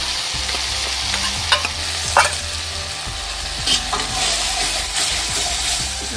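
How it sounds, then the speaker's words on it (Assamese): Homemade masala paste sizzles loudly in oil in a pan while cooking rajma, with a spoon stirring and scraping in repeated close strokes over a continuous frying hiss and no talking. "এতিয়া ইয়াত মই এয়া বনাই থোৱা মছলা পেষ্টখিনি ঢালি দিম"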